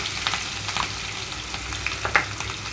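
Onions and green chillies crackle and sizzle in hot oil, with scattered pops and spits over a steady frying hiss.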